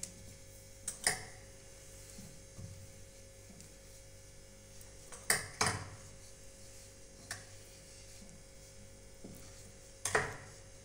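A rolling pin works triangular folded paratha nimki dough on a board, giving a few soft rolling strokes and sharp clacks at irregular intervals over a quiet room hum.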